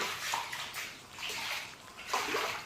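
Floodwater sloshing and splashing inside a house in irregular surges, a broad rushing wash that swells and fades, close by with no talking.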